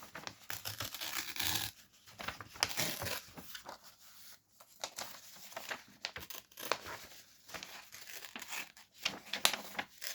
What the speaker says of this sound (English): tear the corner